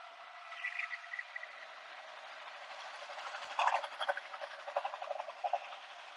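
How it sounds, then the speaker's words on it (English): A train passes near a Las Vegas pool during a live stream, a faint, thin rumble and metallic rattling that builds into a bout of clicking and clacking before easing off. "There's a train coming through."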